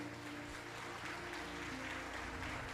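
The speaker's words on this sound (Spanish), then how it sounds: "A su nombre, aplauda fuerte." Loud, continuous applause from a church congregation during a sermon, a dense steady wash of clapping that fills the whole stretch with a faint voice beneath.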